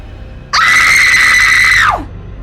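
A single loud, sustained scream in a voice, high and piercing, starting abruptly and holding steady for about a second and a half before trailing off, alone over quiet background.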